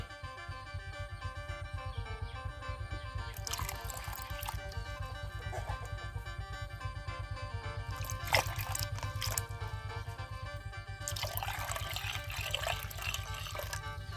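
Water pours and trickles steadily into a bucket outdoors near a rice field, a continuous close splashing fill that swells in brief louder gushes with no talking.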